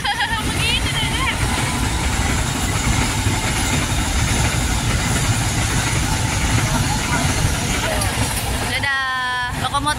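A train rumbles past close by next to Tambun station with a heavy engine drone and rattling, while people talk over the steady noise.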